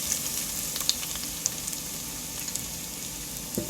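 Onion and carrot fry in ghee in a pot, giving a steady close crackling sizzle with a few sharp pops and light stirring knocks throughout.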